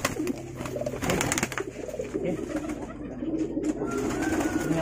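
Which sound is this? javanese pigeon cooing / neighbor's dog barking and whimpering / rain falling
javanese pigeon cooing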